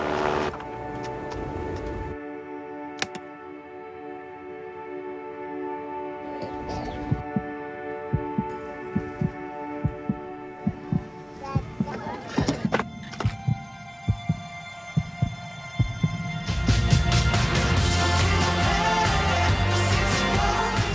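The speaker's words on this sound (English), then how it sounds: "This song was created with heartbeats of children in need." A song built from children's heartbeats plays, with a rhythmic series of soft thumping beats over sustained musical tones and hum, swelling into a louder, fuller passage toward the end.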